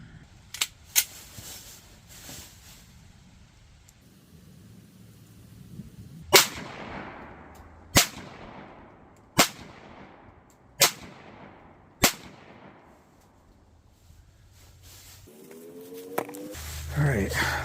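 Ruger 57 pistol firing 5.7x28 40 grain ballistic tip rounds: seven sharp, loud shots at an outdoor range, two close together, then five evenly spaced about a second and a half apart, each followed by a decaying echo.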